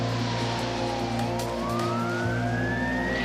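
A loud siren wails continuously, its pitch sweeping slowly upward over a low engine rumble.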